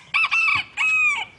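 A rooster crows close and loud in two drawn-out, harmonic calls separated by a short gap, with no voices alongside.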